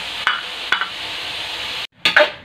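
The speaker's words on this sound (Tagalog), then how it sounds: "Hayaan lang muna natin ma-fry ng kaunti ang ating pangsahog." Aromatics fry in a pan toward light brown, giving a steady close sizzle broken by a few clinks and scrapes of stirring, with a brief drop near the end before the sizzle returns.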